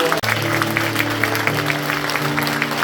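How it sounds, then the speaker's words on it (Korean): Applause from a church congregation at an ordination and installation service, a steady wash of clapping held at even loudness for a few seconds, with organ or keyboard tones sustained beneath it. "자 우리 박수"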